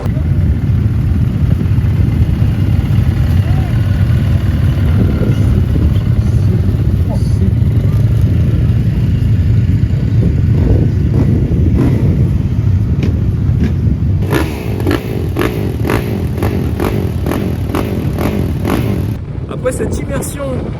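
Quad bike engines run and rev continuously in a crowded paddock before a beach race at Le Touquet, with loud rumbling and revving throughout and a person talking over the engines.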